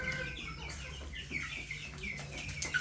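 A flock of about a hundred 21-day-old broiler chickens clucks and chirps continuously up close, with overlapping calls from many birds.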